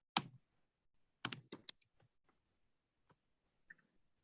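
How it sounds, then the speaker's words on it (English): Quiet computer keyboard typing during a webinar, heard as a few scattered key clicks and one short burst of taps, with long silent gaps between them. "Let me type in a chat here."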